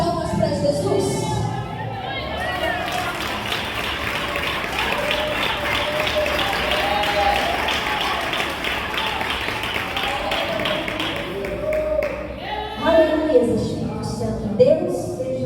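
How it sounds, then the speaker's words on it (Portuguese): A church congregation at a Deus é Amor service claps together steadily for about ten seconds, a dense rhythmic patter with voices and some singing mixed in before it fades back toward speech. "Vamos se assentar e glorificar com as melhores palmas para Jesus"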